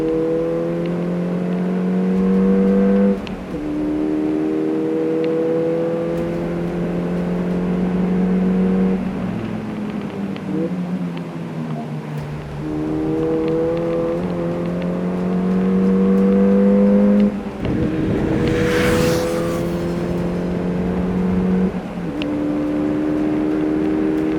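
Race car driven hard on a track during a brake test, the engine revving high through repeated gear changes and braking, with rising and falling pitch and a loud burst of noise partway through.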